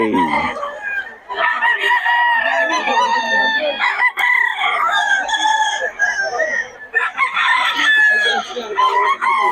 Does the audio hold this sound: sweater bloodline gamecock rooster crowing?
yes